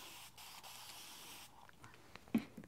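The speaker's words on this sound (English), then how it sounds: "I'm going to give it some spray starch" A steady hiss of spray starch onto quilt fabric runs for a second and a half, briefly interrupted, then stops, followed by faint soft taps and rustles.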